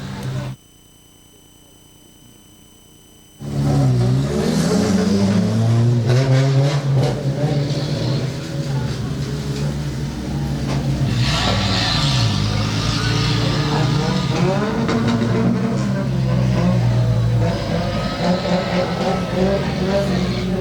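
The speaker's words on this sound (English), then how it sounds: "Jake Fisher, a very happy chappy, winning the 20-lap Prince of the Road here at the Matchmaking History Collie Speedway" Junior sedan race cars on a speedway roar past loudly after a brief quiet start, their engines revving and droning steadily throughout while a commentator talks over them.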